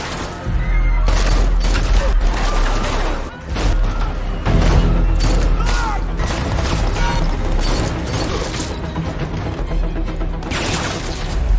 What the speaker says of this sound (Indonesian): aksi baku tembak pun terjadi